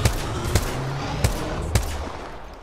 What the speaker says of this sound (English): They're shooting people right here.